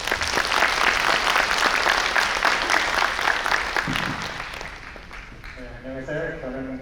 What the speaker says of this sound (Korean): 마침 올라오고 계신데 우렁찬 박수로 환영해 주시기 바랍니다.